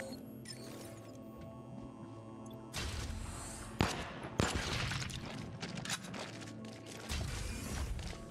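An automated turret opens fire in the space shooter Void Bastards, sharp bursts of gunfire and impacts rattling off in uneven clusters over a quieter ambient hum.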